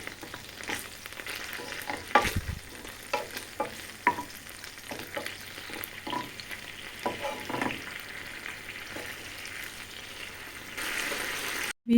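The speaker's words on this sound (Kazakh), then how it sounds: "Осыған кішкене соевый соус құйып, тағы да бір 5 минуттай қуырып алатын боламыз." Meat fries in soy sauce for funchoza salad in a pan, a steady hiss of sizzling under repeated scraping and stirring strokes, with clattering spoon knocks near the start and a louder sizzle swelling toward the end.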